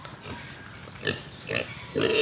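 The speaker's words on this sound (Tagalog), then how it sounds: "So, ayan yung isang inahing baboy natin." A sow on a farm gives several short grunts, separated by brief pauses, close by over a low steady background hum.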